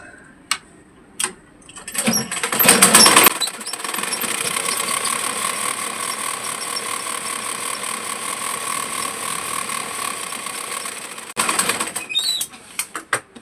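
A sewing machine stitches the last panel onto a six-panel petticoat in one long steady run, loud and close, with a few short clicks and bursts at the start and another brief burst near the end.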